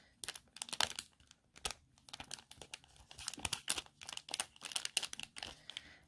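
Small sealed plastic package of Color Street nail polish strips crinkled up close, with quiet, irregular crackling bursts separated by brief pauses.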